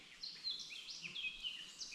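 Small forest birds chirp and trill softly in quick overlapping calls, faint and distant over a quiet woodland background.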